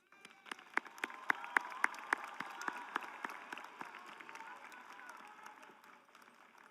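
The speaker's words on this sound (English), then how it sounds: "Let us applaud their success." Audience applause for graduates at a high school graduation ceremony in a large hall, with scattered sharp individual claps standing out early over a broad crowd clapping, fading somewhat toward the end.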